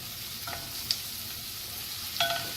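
Onions hitting a hot pan and sautéing for a New York style pizza sauce, a soft continuous sizzle with a couple of small clinks of a spoon stirring, no talking.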